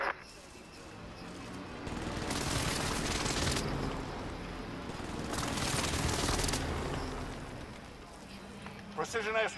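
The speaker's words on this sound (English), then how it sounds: "I'm dropping my airstrike" Airstrike in Call of Duty: Warzone, two long roaring rumbling blasts swelling and fading over several seconds, with talk over the noise.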